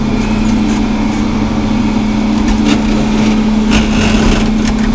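Tractor engine running steadily during hay field work with the front loader bucket still attached, a loud constant hum with a strong low drone, close and continuous with no talk.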